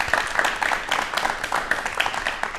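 A studio audience claps for the guest, Dr Mamta Bhatiya, on a DD Rajasthan talk show. The applause is brief, moderately loud and steady, with no talking over it.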